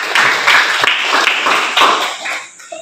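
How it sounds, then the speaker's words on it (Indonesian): Teachers in an academic supervision session clap together, a brief, close burst of group hand clapping with a few stronger accents that fades out within about three seconds. "Kita tepuk tangan."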